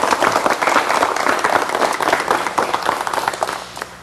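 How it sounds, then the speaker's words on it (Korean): A studio audience gives loud, dense applause to welcome a guest being introduced. The clapping stays full and continuous before it thins out toward the end. "여러분 박수로 맞이해 주시면 대단히 고맙습니다."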